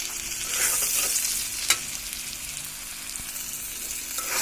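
Garlic fries in a pan with a constant, even sizzle, with one brief sharp clink of a utensil partway through and no talking.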